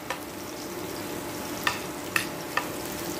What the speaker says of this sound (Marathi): आता आपलं लसूण होत आलेलं आहे